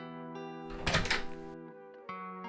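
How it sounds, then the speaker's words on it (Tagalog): A door opens as a sound effect in a Tagalog audio story, a soft thunk and rustling burst lasting under a second over sustained background music. "Nang biglang may nagbukas ng pinto."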